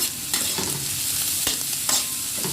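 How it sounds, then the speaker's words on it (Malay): Popiah filling with diced onion sautés in a hot pan, giving a steady, close sizzle broken by the scraping of a spatula stirring at a regular pace. "tumis lagi hingga naik bau."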